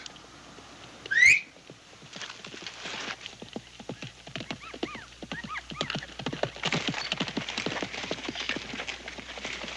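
Horse hooves clop at a fast, steady pace as a rider approaches in a Western setting, growing louder and closer, with a sharp whistle or whinny near the start.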